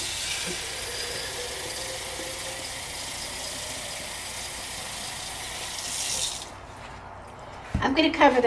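Plain tap water runs steadily into a jar of large sprouting seeds for about six seconds, a loud, even rush that stops abruptly and is followed by a few clinks and handling noises.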